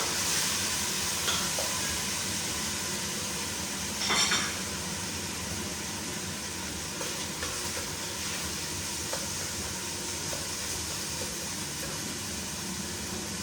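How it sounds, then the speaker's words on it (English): Chicken sizzling in a pan as carrots and capsicum are tossed in, steady frying hiss with a few clinks and scrapes of a utensil against the pan. "So I'm just going to chuck in the carrots and the capsicum now"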